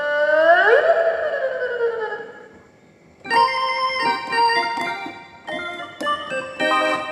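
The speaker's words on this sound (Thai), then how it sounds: "นี่เสียงซอ" An electronic keyboard's Thai saw fiddle voice opens with sliding, swooping bowed-string tones, followed by a run of distinct stepped melodic notes with short gaps, played alone.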